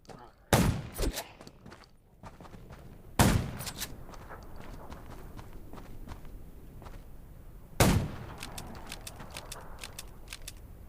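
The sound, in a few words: video game gunshots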